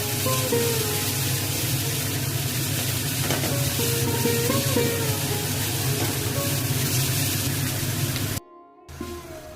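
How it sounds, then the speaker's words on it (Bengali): Onion and garlic fry in oil in a pan, giving a steady, fairly loud sizzle that runs almost unbroken, with a few faint clinks and a brief dropout near the end. "পেঁয়াজ রসুনটা আমি ভালো করে ভাজা করে নিলাম"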